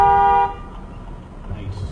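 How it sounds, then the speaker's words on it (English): A single car horn blast in city traffic in Saskatoon, loud and close, cutting off after about half a second and leaving low road rumble behind. "Nice honkage."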